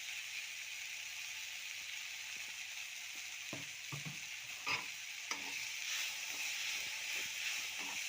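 Spice powder, onion and tomato sauté in hot oil with a steady, quiet sizzle and hiss, broken by a few close scraping stirs of a spoon in the pan, with no voices.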